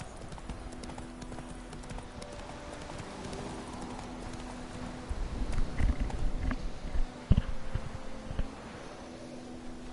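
Hooves of the horse Roach clip-clop steadily in The Witcher 3, a low rhythmic patter under game ambience that grows louder and busier in the second half, with a sharp thud near the end.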